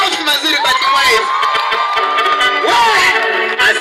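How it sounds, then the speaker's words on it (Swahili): A crowd at a lively event cheers, whoops and shouts in sustained, loud bursts to honor team white, the voices rising and swelling across the whole stretch. "Makofi mazuri kwa team white"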